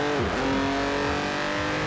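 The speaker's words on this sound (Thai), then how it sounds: "นี่คือเสียงเครื่องเดิมนะครับผม" A stock BMW i8 hybrid sports car engine in Forza Horizon 4 hums and revs in a steady drone, with a few quick shifts in pitch as it accelerates, loud and close.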